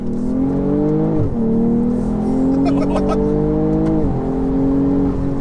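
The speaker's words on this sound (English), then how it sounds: "Engine loves to be revved." A tuned BMW M240i xDrive with about 450 bhp revs hard and accelerates, its engine note climbing steadily through two gear changes, loud and close from inside the car.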